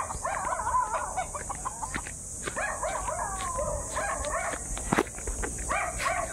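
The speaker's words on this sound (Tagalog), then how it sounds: "Kumakahol yung aso." A dog barks outdoors during a walk through a village, short yelping barks coming in several clusters at mid distance, with faint background noise and no one speaking.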